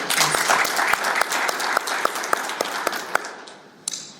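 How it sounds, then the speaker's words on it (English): A seated audience at a research and practice forum workshop in Addis Ababa gives a round of applause, brisk clapping from many people that thins out and fades toward the end. "Please a round of applause for these all partners."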